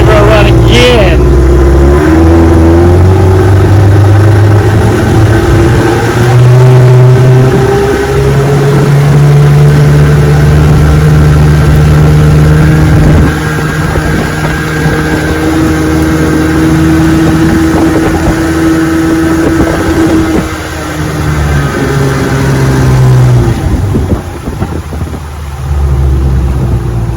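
A restored 1973 Evinrude 18 HP outboard motor running on a test on a bayou, its engine droning loudly and steadily with shifting pitch throughout, close by, with a voice talking over it at times.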